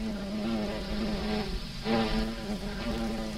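Bumblebee buzzing steadily close by while sheltering under a burdock leaf in the rain, a continuous low droning hum as it warms up without taking off, with a slight swell midway.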